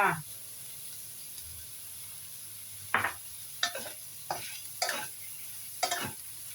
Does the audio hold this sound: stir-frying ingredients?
yes